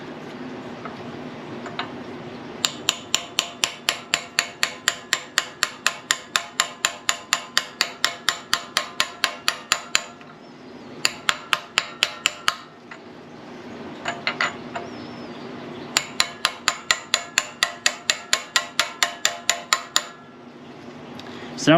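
Hammer giving light, rapid taps to seat a Fiat 124 rear axle part onto a socket: long runs of steady metallic taps, close and loud, broken by short pauses.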